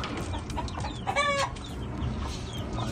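Sweater gamefowl chickens clucking nearby, with a short, louder call standing out midway among scattered low clucks from the flock.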